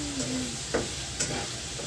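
Garlic with ginger and green chilies sizzling in hot oil for fish pickle, a close, steady crackle broken by a couple of brief stirring clatters.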